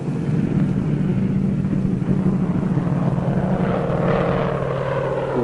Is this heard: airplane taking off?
yes